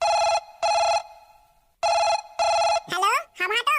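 A phone rings after a call is placed in a cartoon: two loud, evenly spaced double rings with a clear pause between them, followed by a voice answering.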